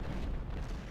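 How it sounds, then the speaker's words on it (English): Artillery fire striking troops in the Civil War strategy game Ultimate General Civil War, a dense, low rumbling barrage of booms filling a brief moment with no speech. "we're getting hit by the artillery as well"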